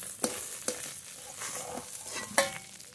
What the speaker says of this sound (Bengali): আস্তে আস্তে জাল দিয়ে ঢেকে ঢেকে ভাজতে হচ্ছে